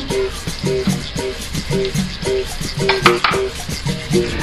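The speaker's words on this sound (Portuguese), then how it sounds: "Dá uma refogadinha nele" Onion and yellow, red and green bell peppers softening in a pan for Bahian moqueca, a steady close sizzle with regular clinks and scrapes of a utensil against the pot repeating roughly every half second.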